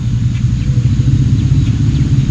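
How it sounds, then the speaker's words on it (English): A vehicle passing near Bossung Lake in Elwood, Nebraska gives a steady, loud low engine rumble that holds throughout without talk. "That's a vehicle, okay."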